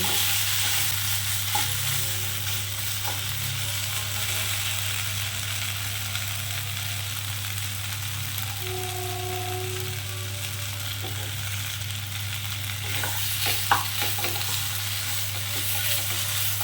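A potato mixture fries in a pan under a continuous low sizzle while a spatula stirs it, with scattered scrapes and knocks spread over a long, even stretch and no talk.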